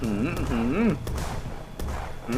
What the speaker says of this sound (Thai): อันนี้เป็นปืนใหญ่นะ ยิงยิงยิงสาดเข้าไป